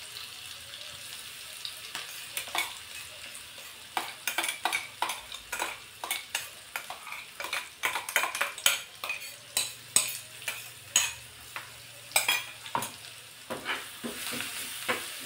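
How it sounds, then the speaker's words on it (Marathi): Cumin seeds, chopped coriander and ground spice paste sizzle in hot oil while a spoon stirs and scrapes the pan in irregular clinks, close and steady for the stuffing of a potato and sweet potato paratha. "तेलावरती हे व्यवस्थित असं परतून घ्यायचं"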